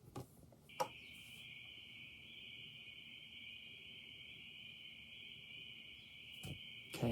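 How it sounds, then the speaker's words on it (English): Spring peepers call on a New Hampshire summer night, a steady high-pitched shrill chorus that holds unbroken and fairly faint, with a couple of brief knocks near the start and end. "this is a recording of peepers that I made a couple years ago when I was home in New Hampshire"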